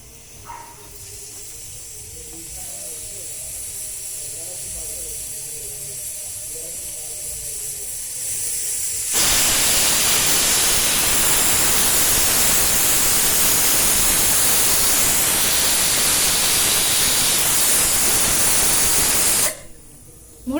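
A pressure cooker cooking spinach dal blows a loud, continuous hiss of steam for about ten seconds and then cuts off abruptly, after a quieter stretch of kitchen background noise.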